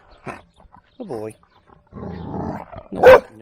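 A dog barks in a home during play, a few distinct close barks and a growling, roar-like vocalization, followed by one loud sharp bark, with a person talking in between.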